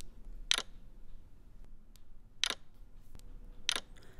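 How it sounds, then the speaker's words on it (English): Three short, crisp clicks of an iPhone lock sound in iOS 10 beta sound in isolation, spaced roughly two seconds then one second apart, faint and close against a quiet background. "there is a new noise when you actually lock the phone"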